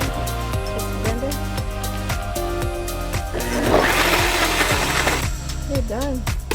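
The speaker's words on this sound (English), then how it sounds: "Let's go in this blender." A blender whirs loudly and steadily, blending herbs, galangal and water, its motor surging into a harsher grinding roar midway, with music playing underneath.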